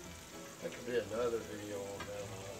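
Breaded quail frying in a pan gives a soft, steady sizzle, faint and close, while a voice talks over it.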